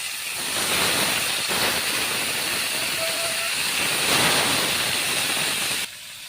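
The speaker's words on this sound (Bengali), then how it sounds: "বাকি মাছগুলো আমি ভেজে নিচ্ছি এই তেলেই।" Fish frying in hot oil in a home kitchen, a steady loud hiss and crackle that runs unbroken through the whole stretch, with a brief drop near the end.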